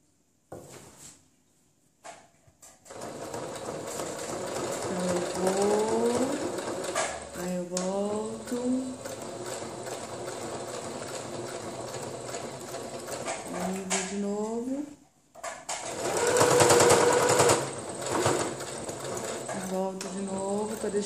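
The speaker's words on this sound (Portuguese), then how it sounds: "vou passar uma costura bem reforçadinha, tá?" A sewing machine runs a reinforced seam on a fabric face mask with a head strap, its motor revving up in several bursts of rapid stitching separated by short pauses, close and loud.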